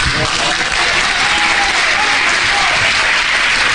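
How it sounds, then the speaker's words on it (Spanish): A church congregation applauding during a sermon, loud dense clapping that fills the whole stretch without a break. "Si quiere aplaudir a Dios, aplauda."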